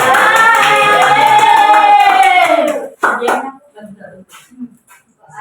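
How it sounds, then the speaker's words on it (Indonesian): Classroom applause for a classmate, a burst of many hands clapping together with children's voices that lasts a few seconds. It stops abruptly, and scattered talk and noises follow. "berikan aplaus untuk teman kita"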